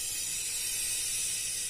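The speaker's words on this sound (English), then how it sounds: "So if I blow down the petrol pipe" Air blown by mouth through the petrol pipe of a Yamaha YZ85 motorcycle carburettor with the float valve open, giving a steady, close, breathy hiss that holds evenly for under two seconds with no talking.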